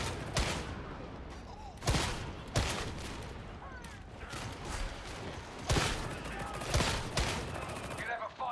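Gunfire in the video game Warhammer 40,000: Darktide: bursts of automatic shots and sharp individual cracks at irregular intervals, mid-level, over a rumbling background.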